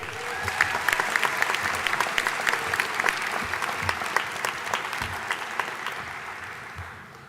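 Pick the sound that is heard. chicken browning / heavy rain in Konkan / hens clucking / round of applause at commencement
round of applause at commencement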